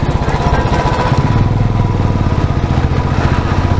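Motorcycle engine labouring steadily as the bike climbs the foggy Agumbe Ghat in low gear, a loud, close, continuous throb throughout.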